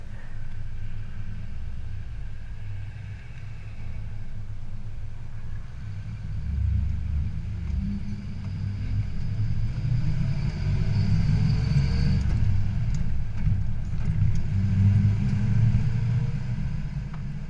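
A 1970 Chevy pickup truck engine rumbles steadily from inside the cab on a test drive, swelling louder midway as it accelerates, with road noise droning underneath throughout.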